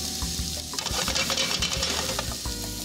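Onions fry in a hot pan, a loud continuous sizzle broken by scraping and stirring strokes from a utensil against the pan.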